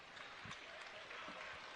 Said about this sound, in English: Sellout crowd here at the Expo rises to its feet